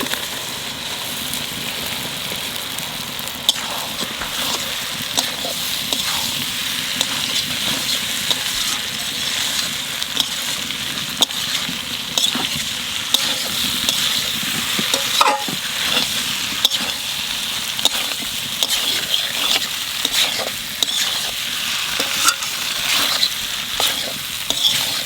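Potatoes and raw green peas sauté in a pan with a little water: a steady, close sizzle runs throughout, broken by scattered crackles and occasional scraping stirs.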